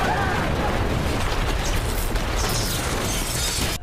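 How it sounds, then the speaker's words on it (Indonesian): Massive nuclear reactor explosion at a power plant in the disaster film Pandora, heard as a continuous loud roaring rumble of blast and debris that fills the whole stretch before cutting off abruptly at the end. "ledakan besar pun tak terhindarkan"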